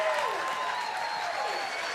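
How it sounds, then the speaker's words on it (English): Brief burst of audience applause for a house band at a comedy murder-mystery show, dense clapping with tonal musical notes sliding underneath. "Please put your hands together for our amazing house band."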